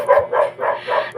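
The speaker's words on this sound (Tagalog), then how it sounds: "Ingay ng mga aso." Several dogs bark in quick, overlapping bursts, close and loud, a rapid volley of yaps.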